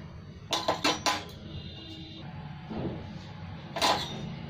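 A few sharp metallic knocks and scrapes of a pan against a stone grinding slab, then a soft pouring rustle of roasted spices for raw mango pickle and a final clatter, nearby and quiet.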